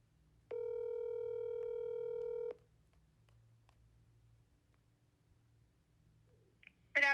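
A voicemail tone: one steady, loud electronic beep lasting about two seconds, followed by quiet line hiss and a faint click near the end.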